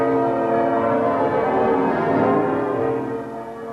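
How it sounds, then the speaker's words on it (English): Church bells pealing at York Minster, a dense, continuous ringing wash of overlapping tones that stays loud throughout and eases slightly at the end. "A peal of bells at York Minster"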